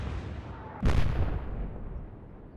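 A single heavy boom from naval guns firing shells at a ship in the WWII naval game Atlantic Fleet, a sharp loud blast followed by a rumbling decay.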